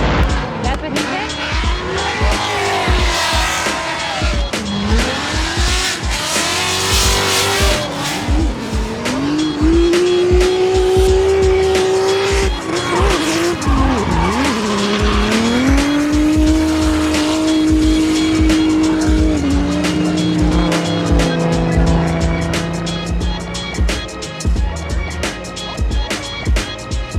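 A freshly built B58-powered BMW 340i revs hard with long squealing tires and a rising, falling engine note, loud and continuous throughout, with people talking over it.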